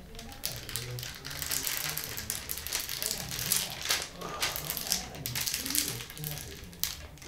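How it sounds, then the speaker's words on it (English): Plastic double-zipper storage bag being slid closed by hand, giving a run of close crinkling, clicking and ratcheting snaps as the seal presses shut, with people talking throughout. "Slide holding from one end of the double zipper to close."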